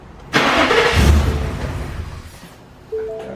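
A 2018 Ford F-150 pickup on a dyno cranks over and catches, its engine starting with a loud, broad rumble that slowly eases off, followed by a brief mechanical tone near the end.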